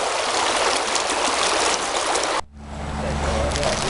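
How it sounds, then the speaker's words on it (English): A river at a gold dredging camp rushes with loud, steady broadband water noise for over two seconds. It then cuts off abruptly to a quieter low hum. "There's the river."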